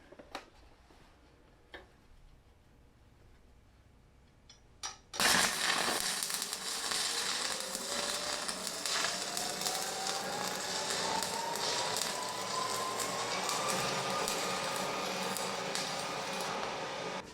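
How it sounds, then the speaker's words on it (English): Stick welding with 7018 rods on a Miller 220 multiprocess AC/DC welder: after a few seconds of quiet with faint clicks, a loud, steady crackling arc starts and sizzles continuously, close and alone. "So let's do a little stick welding"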